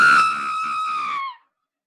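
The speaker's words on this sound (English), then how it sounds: "Another scream echoes through the darkness, cutting me off." A scream sound effect in an audiobook reading: one loud, sustained shriek with a slightly wavering pitch, falling off abruptly into silence.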